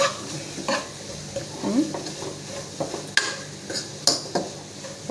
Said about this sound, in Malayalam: മുളക് പൊടി, മല്ലിപ്പൊടി, മഞ്ഞൾപ്പൊടി ഇത് നന്നായി ഇളക്കുക